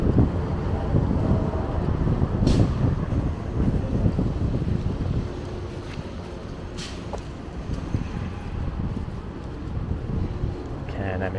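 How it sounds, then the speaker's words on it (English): Strong wind gusting across the microphone in a Toronto graffiti laneway on a February day, a loud continuous rumble that eases slightly midway, with a few faint clicks and no clear talk. "it's quite windy"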